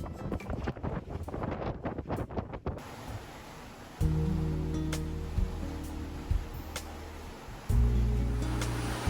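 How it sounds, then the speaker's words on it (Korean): On a sailing yacht crossing the Atlantic in rough, choppy seas, waves wash and slosh around the hull amid gusty wind noise, with a few sharp knocks and creaks from the boat; no one speaks. "바람이 잘 불어줘서 잘 가고 있지만 파도가 심해서 항해 내내 배가 많이 흔들렸습니다."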